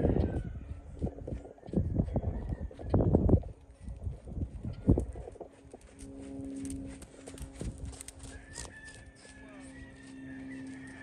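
A Tennessee Walking Horse trots on a lunge line, its hoofbeats thudding in an uneven rhythm at moderate distance while someone talks over the first half; later the steps fade into quieter background noise.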